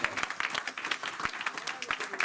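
A church congregation gives an ovation to the Lord during a sermon, a crowd clapping in a dense, fast patter, moderately faint and continuous.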